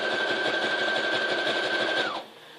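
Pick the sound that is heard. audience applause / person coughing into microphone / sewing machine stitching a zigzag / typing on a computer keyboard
sewing machine stitching a zigzag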